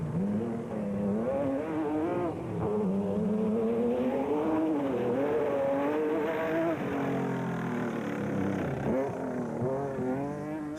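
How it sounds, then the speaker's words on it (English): A Nissan rally race car engine howls at speed during the Carnival City 400 rally in 2005, loud and sustained with rising and falling revs through gear changes, no talk. "Still, the Nissan was sounding phenomenal."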